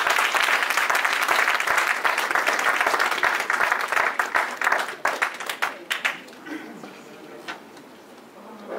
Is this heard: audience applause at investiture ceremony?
yes